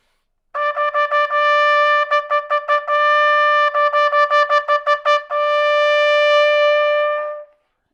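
A trumpet warmup exercise on D sounds close and clear alone: a run of quick tongued notes in steady rhythm, a mix of connected and short detached notes, then a long sustained final tone that fades out.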